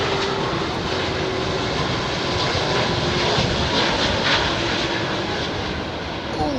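MEA Airbus A330-200 in old livery arriving on runway 27R at London Heathrow, a broad steady roar of jet engines, loud and constant throughout, with faint voices beneath.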